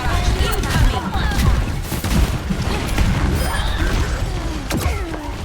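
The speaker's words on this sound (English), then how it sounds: "Rocket barrage incoming." Rocket barrage in a video game: a loud, continuous rumble of booms, blasts and clattering impacts running throughout, with occasional sharper cracks and whistling streaks layered over the dense roar.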